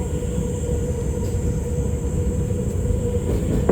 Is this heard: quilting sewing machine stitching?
no